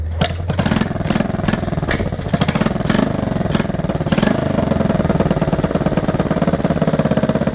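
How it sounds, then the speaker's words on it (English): A Honda XR100 motorcycle engine runs up close with the choke on, loud and rough, with a series of sharp backfire pops in the first few seconds before settling into a fast, even idle chug. "that's with the choke on, guys. There is a slight backfire, so the timing could be slightly out"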